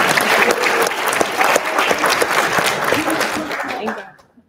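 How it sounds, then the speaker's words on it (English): An audience at a talk bursts into applause, a dense, lively clapping with some chuckles and voices mixed in, holding steady before tapering off abruptly at the end. "Can we clap for that?"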